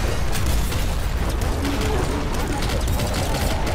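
In the game Nuclear Throne, the Big Dog boss blows up in a thick, continuous rumble of overlapping blasts and crackling bursts, loud and unbroken from start to finish.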